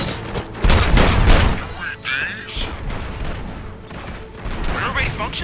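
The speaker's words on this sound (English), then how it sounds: "Gunshots? What's going on?" Gunfire bursts out in the video game RoboCop: Rogue City, dense volleys of shots and booming impacts mixed with mechanical clanks, loud and continuous, with game dialogue voices underneath.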